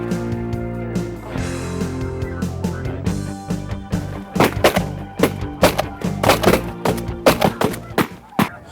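Shotguns fire during a waterfowl hunt: a rapid series of sharp, close reports comes in the second half, after and among voices and other sounds.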